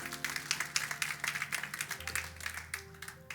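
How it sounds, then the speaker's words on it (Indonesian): Applause from a church congregation during a Christmas concert, fairly faint and pulsing steadily, with a sustained tonal hum from instruments or keyboard beneath it. "tepuk tangan dulu yang luar biasa"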